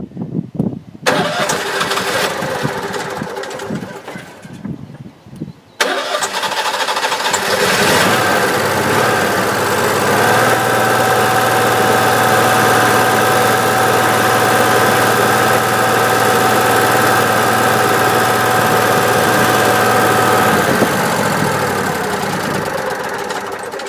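An engine cranks with sputtering bursts, pauses, then catches and settles into a loud, steady running drone close by.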